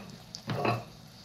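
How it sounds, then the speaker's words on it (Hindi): Masala and green chilies frying in a hot pan, a brief burst of sizzling with stirring in the middle of an otherwise quiet kitchen moment. "ये जो मसाला है वो उसको भून लेंगे।"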